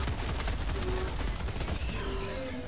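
Dense, continuous automatic gunfire from a fully automatic weapon in the video game Helldivers 2, a rapid unbroken stream of shots mixed with battle noise, loud and steady throughout.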